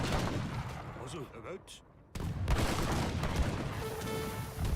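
Cannons fire in a colonial-era strategy video game, dense booming blasts and crackling volleys filling the mix in a near-continuous roar, with a brief dip midway before the barrage resumes loud.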